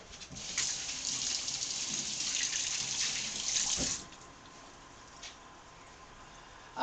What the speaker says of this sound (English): Then I'm going to wash my hands because I don't want to mess up my products over here.